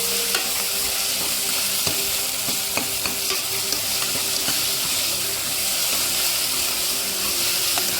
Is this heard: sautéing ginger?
yes